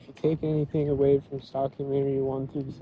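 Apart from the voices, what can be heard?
No distinct noise like a dog, phone or traffic.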